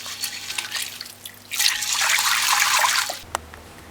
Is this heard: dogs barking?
no